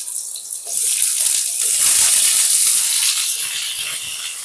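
Potatoes go into a hot pan of mixed vegetables for a vegetarian five-vegetable dish, and a loud, steady sizzling hiss rises at once and stays broad and bright.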